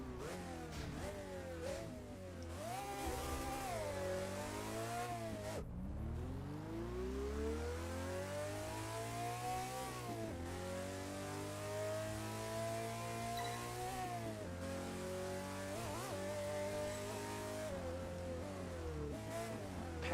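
A Pagani Zonda's engine in Test Drive Unlimited 2 revs hard through repeated gear changes, the tone climbing, dropping sharply at each shift and climbing again in a steady, loud, continuous howl with no talk over it.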